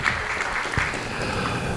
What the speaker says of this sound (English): So a round of applause for those people.